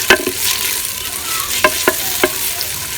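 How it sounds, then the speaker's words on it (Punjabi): Onion sizzles and fries with cumin and dry coriander in a village-style pan for brinjal bharta, a steady bright hiss punctuated by several scraping stirs of the spoon. "ਪਿਆਜ਼ ਨੂੰ ਥੋੜਾ ਜਿਹਾ ਸੋਟੇ ਕਰਾਂਗੇ"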